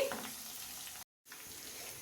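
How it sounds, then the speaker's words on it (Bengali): Rice being stir-fried in a pan with peas that have already been fried, giving a steady sizzling frying hiss with a brief gap of silence midway, no voices. "এগুলো সমস্ত ভাজা ভাজা মতো একটু হয়ে গেছে আমি এবারে ভাতটা দিয়ে দিচ্ছি"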